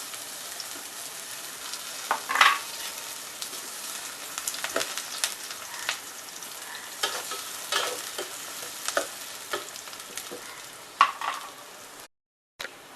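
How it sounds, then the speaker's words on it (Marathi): Onions browning in two spoons of oil in a hot pan for fish-egg biryani, a soft steady sizzle broken by repeated scraping stirs and clinks, with a brief gap of silence near the end. "त्याच्यामध्ये मी तेल टाकते आहे दोन चम्मच तेल टाकते त्याच्यामध्ये आपण कांदा ब्राऊन करून घेऊया"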